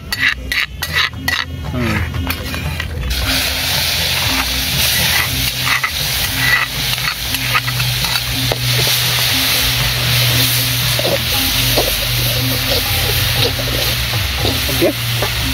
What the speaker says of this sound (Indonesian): kita langsung lanjut ditumis